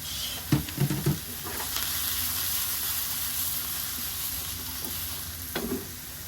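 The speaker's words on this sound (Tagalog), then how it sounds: "lagay na rin natin ang cabbage" Cabbage tipped into a hot pot for udon nabe, with a few clattering bumps as it drops in, then a steady, close sizzling hiss that carries on alone.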